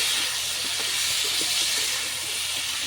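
Chopped tomato and turmeric powder fry in a hot pan with oil, a loud, continuous sizzling hiss with faint stirring knocks beneath.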